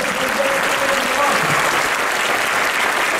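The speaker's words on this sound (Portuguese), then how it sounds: "dá uma salva de palmas" Church congregation applauding the religious sisters during a Catholic service, a sustained, dense round of clapping from many hands that holds steady throughout.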